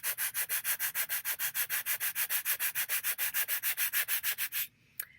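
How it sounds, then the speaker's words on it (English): Sand blocks, wooden blocks faced with sandpaper, are rubbed together in a fast steady rhythm, about two dozen close, even rasping strokes before stopping abruptly. "When you rub them against each other, it makes kind of like a grinding sound against each other."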